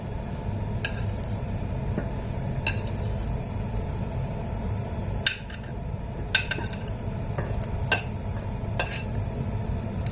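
Stirring in a pot of Thai curry with boiled, finely chopped cassia leaves, shallots and garlic: steady low bubbling noise with scattered sharp clinks of a utensil against the pot.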